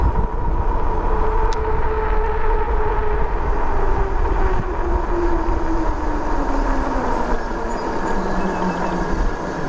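A HAOQI Cheetah dual-battery, dual-suspension e-bike rides on throttle level 5, its motor whine slowly falling in pitch beneath a constant, heavy rush of wind noise.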